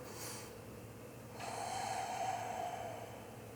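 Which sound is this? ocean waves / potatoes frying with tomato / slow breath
slow breath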